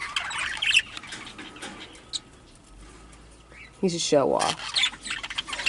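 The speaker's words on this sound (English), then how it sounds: "Rocky's making all the noises like claiming the cage and everything, territorial stuff" Rocky, a large fluffed-up pet bird over 70 grams, hoots, squawks and chirps in bursts inside a breeding cage in a breeding shed, with a louder run of rising calls near the end and a person talking briefly.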